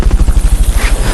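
Fulton recovery helicopter in Metal Gear Solid Peace Walker, a loud, steady rotor thump beating rapidly and evenly close by with a rushing whine above it, no voices.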